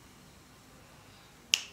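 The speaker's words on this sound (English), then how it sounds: "You snap your fingers." One crisp finger snap rings out sharply near the end after a near-silent stretch, followed by a brief fading tail.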